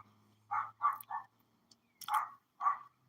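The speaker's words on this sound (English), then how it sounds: "you can hear a dog barking out there" A dog barks outdoors in several short, mid-distance bursts: three in quick succession, a pause, then two more, set against a quiet background.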